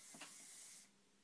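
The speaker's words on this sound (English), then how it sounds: "and just going to spray down the hair." A short hissing burst of hairspray sprayed onto hair, steady for under a second before cutting off, close and soft with no talk.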